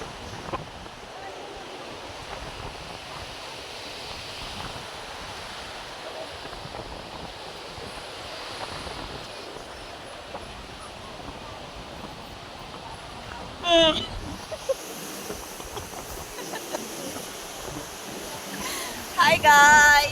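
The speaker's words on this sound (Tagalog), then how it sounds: "sobrang hangin dito sa Bagasbas" Strong wind roars steadily across the microphone at Bagasbas beach, with surf washing beneath it and a few louder gusts and thumps near the end; no clear speech stands out.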